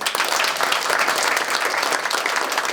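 Studio audience at a talk show applauding in a thick, even wash of clapping, loud and sustained for nearly three seconds with no talk over it.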